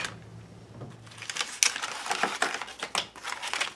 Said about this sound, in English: I'm going to bring in my cutting mat and my X-Acto for this, and I'm just going to cut that window out